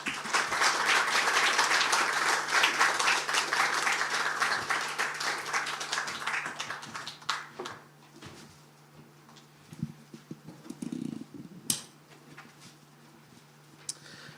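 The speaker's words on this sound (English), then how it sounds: "with a big round of applause" A large audience at a public lecture on building a Moon base claps in a dense, sustained wave of applause that gradually thins out, leaving scattered claps and light room noise.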